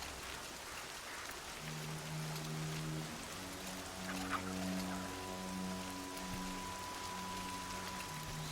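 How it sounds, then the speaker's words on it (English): Steady rain patters softly over a low sustained musical drone, a quiet ambient wash with no voices, in the video game Horizon Zero Dawn. "Everything's sharp and looming in the rain."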